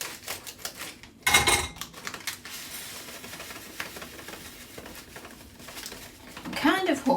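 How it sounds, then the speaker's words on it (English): Breadcrumbs tipped into a dish for a rustic chicken Kiev give a short, close crinkly patter, first as a brief burst near the start and again as a softer rustle toward the end, with quiet kitchen handling between. "Into this one I'm going to put some breadcrumbs."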